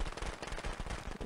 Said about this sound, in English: How is Jason so afraid of some little like firecrackers